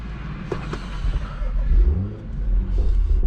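A BMW M235i engine starts and revs up, a low throaty rumble rising and swelling in pitch, loud and close, with a few short bursts of throttle.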